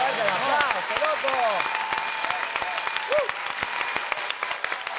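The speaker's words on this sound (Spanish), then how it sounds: "¡Fuerte el aplauso, loco!" A crowd at a fight announcement event breaks into steady applause, with sharp claps mixed with cheering and whooping voices across the whole stretch.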